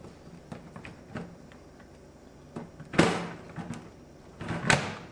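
Detachable door of a Power Air Fryer Pro being clicked back into place: a few light plastic knocks, then a louder clunk near the middle and another firm snap-in knock toward the end, close by with no talking.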